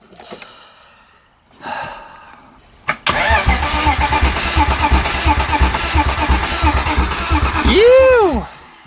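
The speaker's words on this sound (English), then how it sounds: "if we push the start button the engine should turn over" After a few quiet sounds, a T18 project car's engine cranks and fires up at the push of a start button, then settles into a loud, rough, throbbing idle with a brief rising whine near the end.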